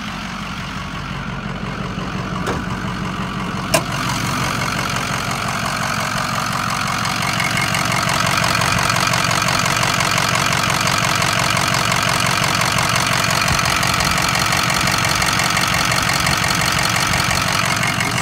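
A Ford engine idles steadily with the hood open, a loud, close, continuous mechanical rumble and clatter with no talking, growing slightly louder partway through.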